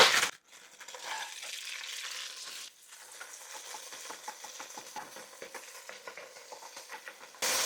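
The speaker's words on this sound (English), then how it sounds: "In goes the onions." Onions drop into shimmering hot oil in a pan and start to sizzle, a close crackling hiss with light scraping and stirring clicks that runs on quietly.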